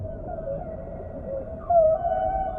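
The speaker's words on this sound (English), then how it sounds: "Sometimes whales use their own sonar, making sounds which can travel many miles, bouncing back from underwater mountains." A whale calls in the open ocean, a low steady moaning tone that rises into a brief higher swell partway through, alone against a quiet underwater background.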